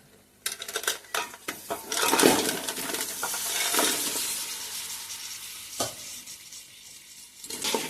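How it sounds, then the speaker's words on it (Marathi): A spoon stirs crab curry in a pot, scraping and clinking against the metal over a soft sizzle, with several distinct strokes close by and no talking. "ढवळून घेऊया."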